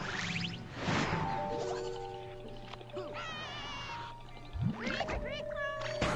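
Cat meows in Plants vs. Zombies Heroes ring out amid busy synthesized effects and tones, with a brief whinny-like cry and thuds mixed in.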